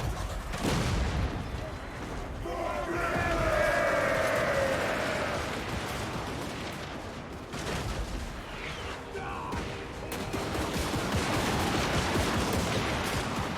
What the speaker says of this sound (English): I just wanted to get some of the gunnery sound effects